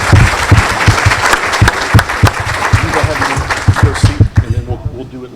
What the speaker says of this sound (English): One more hand of applause for them.